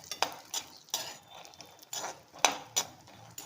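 Raw, unroasted peanuts are lightly fried in a pan: a quiet soft sizzle broken by a few sharp scrapes and clinks of a spoon stirring, a handful of them over a few seconds.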